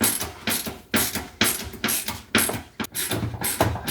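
Screws being tightened on a newly mounted microwave make rhythmic ratcheting clicks, about eight close, evenly paced bursts.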